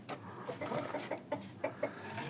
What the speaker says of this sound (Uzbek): Samuray xo'rozlarimdan bittasi bu.